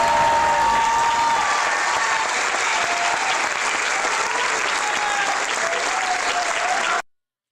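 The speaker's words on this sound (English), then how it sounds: "how about a round of applause for Mary McGonnell in her last year of teaching here at" A school awards-night audience applauds a retiring teacher, a loud, full burst of clapping that holds steady before cutting off abruptly near the end.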